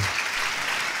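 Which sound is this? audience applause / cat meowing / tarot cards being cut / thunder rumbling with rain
audience applause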